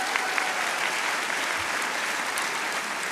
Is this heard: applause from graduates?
yes